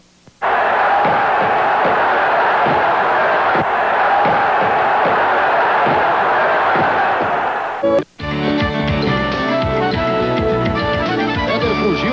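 Football crowd at the Olímpico stadium roaring and cheering in a loud, sustained swell, broken briefly near the end before the roar resumes under broadcast commentary.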